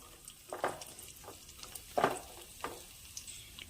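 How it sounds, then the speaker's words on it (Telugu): Cashews and raisins frying in ghee in a pan, a faint low sizzle broken by a few soft stirring scrapes and clinks, quiet and close. "కాజు వేయించుకుంటున్నా. ఎండు ద్రాక్ష వీటిని వేయించుకోవాలి."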